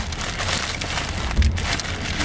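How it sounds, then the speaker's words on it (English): Steady rain pours down outdoors near an umbrella, a dense, even hiss of drops with a brief low thump partway through and no voices. "it's raining right now"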